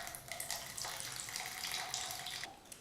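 Homemade buttermilk poured out of a container after churning butter, a continuous splashing liquid stream that runs steadily and fairly quietly before tapering off.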